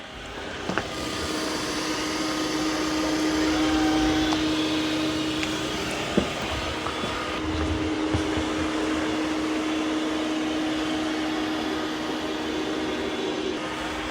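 A Dreame L40 Gen 2 robot vacuum mop cleans a muddy floor in a crisscross pattern, its steady airy motor drone running loud and continuous with faint bumps and clicks as it moves along.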